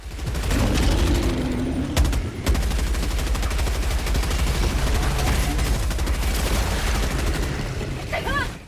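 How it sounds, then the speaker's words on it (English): A mounted heavy machine gun fires in Helldivers 2 in a continuous loud stream of rapid shots lasting several seconds, with the battle noise dense and close. "Machine gun fire didn't last long"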